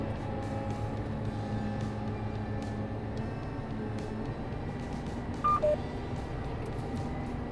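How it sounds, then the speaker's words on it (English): A John Deere tractor runs in gear under AutoTrac steering, its steady low engine drone building slightly as it speeds up, with a couple of brief electronic beeps from the cab near the end. "I'm going to put our tractor in gear here, speed it up, and enable AutoTrac"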